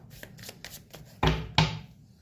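Tarot cards riffled and drawn by hand, soft papery flicks then two louder, sharper shuffling bursts, close and alone with no talk.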